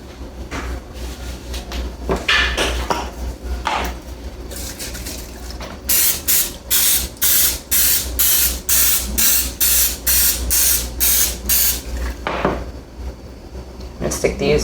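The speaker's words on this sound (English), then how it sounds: "So we're gonna spray these first." Cooking spray hissing onto cupcake tins during apple rose baking, a rapid series of short, loud, evenly spaced spray bursts close by, with quiet kitchen talk before and after.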